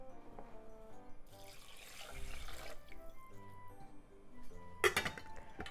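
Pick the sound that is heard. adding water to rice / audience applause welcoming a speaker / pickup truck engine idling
adding water to rice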